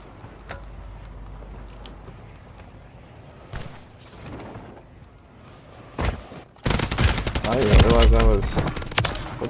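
Gunfire in a video game, a shotgun among the weapons, with scattered shots early on and then a dense, loud burst of firing near the end while a voice talks over it.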